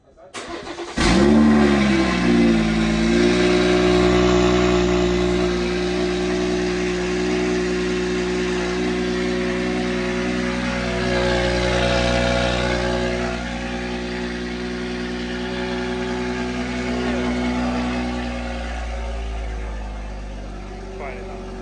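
A BMW 440i engine fitted with downpipes, chargepipes and lowering springs cranks and starts with a burst, then revs and settles into a steady, loud idle that rises and falls, with voices talking over it.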